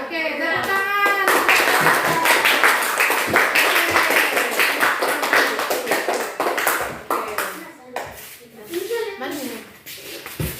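A classroom of students claps hands together, a busy run of many sharp claps mixed with voices and shuffling, thinning out and becoming more scattered toward the end.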